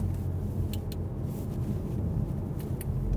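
A 2023 Mazda CX-30 in sport mode holds a gear, its engine giving a steady, muffled drone heard from inside the cabin, with light road rumble and a few faint ticks.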